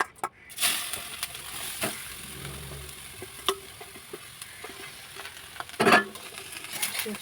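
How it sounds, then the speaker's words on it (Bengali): Grated carrot fries in a generous amount of ghee in a kadai, a moderate sizzle broken by scraping stirs and sharp clicks of a utensil against the pan, heard close with no talking. "গাজরটা কিন্তু পুরো ঘিয়েতে ভাজা হবে।"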